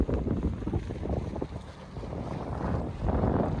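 New Marketplace skiff running across open water on a bright day, a steady rumbling rush of hull, spray and wind buffeting the microphone, close and continuous with no talk.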